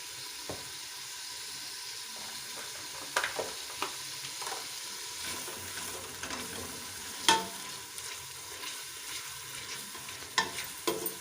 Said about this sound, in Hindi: एक से 2 मिनट इसको अच्छे से भून लें मसाले को